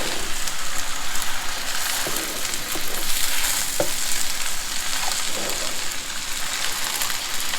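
Chow fun noodles stir-fry with black pepper in a hot pan, giving a continuous loud sizzle broken by scattered scrapes and clacks of stirring, with no voices.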